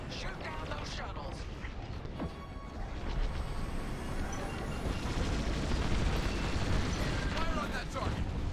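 Starfighter blaster fire and explosions in Star Wars Squadrons space combat, a dense continuous roar of booms and bursts with crackling shots layered over it, loud and sustained.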